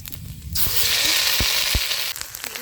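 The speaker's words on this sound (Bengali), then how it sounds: "একটু আদা রসুনটা একটু তেলে নেড়ে চেলে নেবো দিয়ে দিলাম ফোড়ন আদা রসুনটা" Ginger and garlic dropped into hot oil in a village kitchen, bursting into a loud, steady hiss that holds for over a second, with a few knocks and scrapes of stirring around it.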